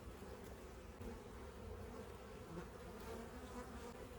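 A steady, dense buzz of many honeybees at close range during an October hive inspection of a colony from a swarm trap, holding even throughout with no talk.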